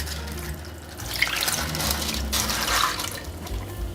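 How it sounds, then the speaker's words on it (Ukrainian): A glass of water poured into an ovenproof baking dish holding ribs in a roasting sleeve, a close, continuous splashing trickle lasting a few seconds with no talk. "У посуд, де будуть запікатись наші реберця, я наливаю стакан води."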